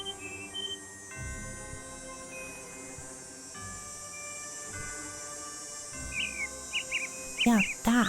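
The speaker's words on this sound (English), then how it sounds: "So we did hear another kind of bird song" Bird song in the video game Nancy Drew: Ghost Dogs of Moon Lake: a few short, high chirps over steady ambient music tones, clustered mostly near the end.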